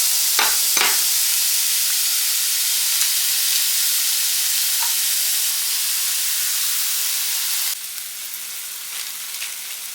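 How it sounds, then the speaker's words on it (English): Sausage browning in a frying pan during breakfast taco prep, a steady broadband sizzle running throughout with a couple of soft clinks near the start and a slight drop in intensity toward the end. "So I'm going to get this sausage browned up."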